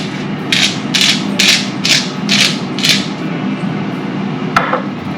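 A pepper mill grinds pepper over a cooking dish in six quick rhythmic crunching twists, close and crisp, followed by a single faint click.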